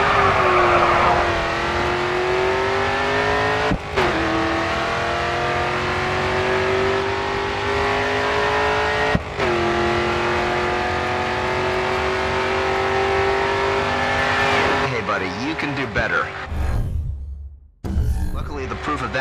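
A race car engine in GRID 2 roars at full throttle down the final straight, a loud sustained howl rising through the gears with brief shift breaks, fading and cutting out near the end.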